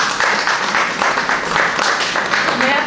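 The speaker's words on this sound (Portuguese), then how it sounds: "a quem eu peço uma salva de palmas" A live audience bursts into sustained applause for a guest at a talk held at the Instituto Pretos Novos, with dense, steady clapping lasting the whole stretch and no clear voices on top.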